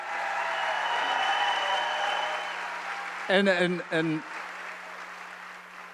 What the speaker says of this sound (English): I think they all deserve a nice round of applause